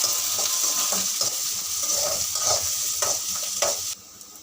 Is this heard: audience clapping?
no